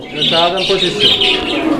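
Pigeons cooing and chirping at a busy pigeon market where breeding pairs are sold, a dense, continuous layer of bird calls with murmuring voices mixed in.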